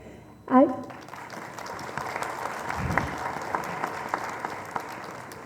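Audience applause fills a hall at a blind orchestra event in Pakistan, a dense, sustained clatter of many hands following a brief loud voice at the start, continuing steadily with scattered louder claps.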